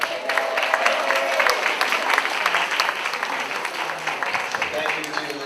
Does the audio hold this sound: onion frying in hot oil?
no